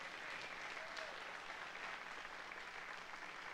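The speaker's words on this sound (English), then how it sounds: "give God a big hand clap this morning" A church congregation claps for God during a morning service, giving a steady, faint wash of many hands that carries on evenly throughout, distant and without any voices over it.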